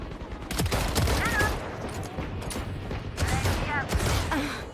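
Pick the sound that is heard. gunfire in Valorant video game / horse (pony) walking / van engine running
gunfire in Valorant video game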